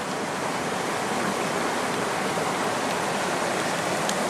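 A forest creek beside Skalkaho-Rye Road in Bitterroot National Forest rushes and gurgles in a steady, dense wash of water. It sounds close and loud, with no pauses and no voices.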